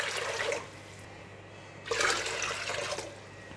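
Water gushes and splashes into a cooking pot in two separate pours, the second stronger, as about 3.5 liters are added for a pork bone broth; close and moderately loud with no talking.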